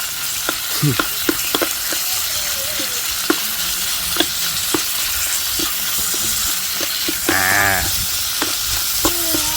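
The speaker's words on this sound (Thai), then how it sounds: "เดี๋ยวผัด ผักจะได้ผักสุกๆหน่อยเนาะ" Vegetables stir-fried in a pan for fried rice, a steady sizzle running throughout with scattered scraping and clinking stirs, plus a brief higher-pitched sound near the end.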